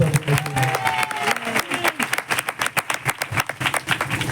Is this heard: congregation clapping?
yes